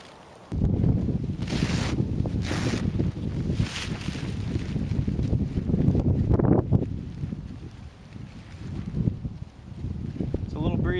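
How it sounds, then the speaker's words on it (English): Steady wind buffets the microphone outdoors at a campsite beside a tent, a continuous loud rumbling gust that persists throughout the clip while a voice talks over it. "Breezy out here, but otherwise it's an absolutely beautiful day."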